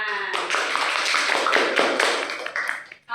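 A classroom full of students claps together continuously and densely for about three seconds, then the clapping stops abruptly.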